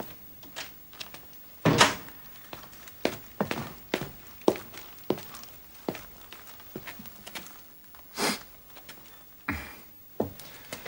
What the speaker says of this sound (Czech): Ale zavřete dveře, prosím.